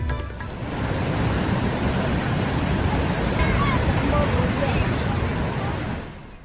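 Swollen river floodwater in a cloudburst-hit area of Jammu and Kashmir pours over a bridge, a loud, steady broadband roar and rush that holds for several seconds before easing at the end.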